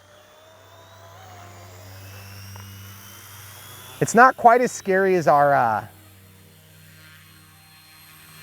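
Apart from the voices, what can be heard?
Eachine E160 RC helicopter flying close by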